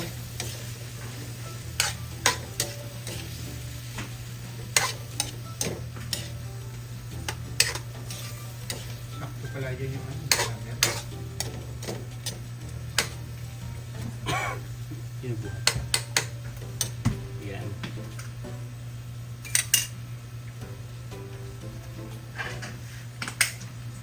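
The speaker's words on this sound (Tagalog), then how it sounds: "Haluin lang po natin ito." A spoon stirs vegetables in a cooking pot with irregular scraping knocks and clinks, fairly close, over a steady low hum and occasional soft sizzle.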